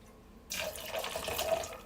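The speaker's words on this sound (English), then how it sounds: "So nice little pour of that beautiful purple violet Empress." Empress gin, the purple violet kind, pours into a cocktail glass as a steady, close, splashing stream that starts abruptly and runs on.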